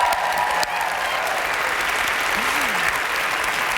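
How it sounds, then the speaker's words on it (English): Loud, sustained audience applause at the 2015 Canadian Screen Awards show, a thick continuous roar of clapping from a large crowd with faint voices underneath. "yes, let's keep applauding."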